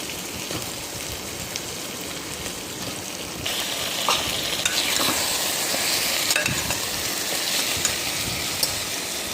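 Eggplant and potato are stirred into a spice paste cooking in oil in a pan, producing a continuous close sizzle that grows louder midway, punctuated by scraping spoon strokes, without any talk.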